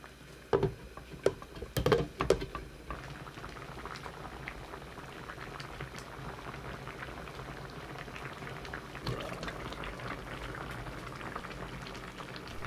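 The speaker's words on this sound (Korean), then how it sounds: "감자가 익을 때까지 끓이시면 돼요." Potato gochujang stew with zucchini and chili bubbles in a pot, a steady close simmering burble, with a few sharp clinks and knocks near the start before settling into continuous boiling.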